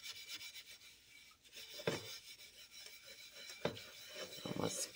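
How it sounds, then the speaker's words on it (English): Cookware scrubbed with a small scrubber and Bar Keepers Friend, soft gritty rubbing strokes in irregular bursts, close but quiet, with a few louder scrapes. "I can't scrub it and record like I want to"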